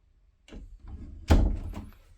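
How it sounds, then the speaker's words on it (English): A door swings shut over a covered spot on the floor, a soft sweep followed by a solid close thunk and a brief rattle fading out, near and fairly loud. "Let me see if the door goes over it."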